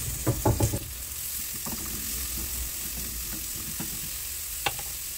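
Garlic and onion fry in olive oil in a pressure cooker for sardines in sauce, with a steady, even sizzle throughout. A few spoon knocks come at the start and a single clack comes near the end, with no talking.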